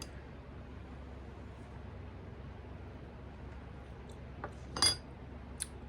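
A metal spoon clinks against a dish while cooked food is tasted, one short bright clink followed by a fainter tap, quiet against a low room hum with no talking.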